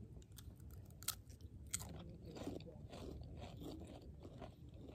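Close, crunchy chewing of foreign Lay's potato chips with sharp crackling bites early on and steady mastication after, low and intimate, faint voices in the background.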